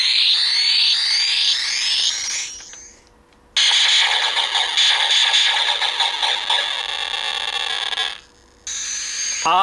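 A Dragon Quest Dai toy Papnica knife plays its electronic special-move sound effect: bright whooshing synthetic bursts with a sweeping shimmer, a short gap, then a longer buzzing blast before cutting off and restarting, loud and close.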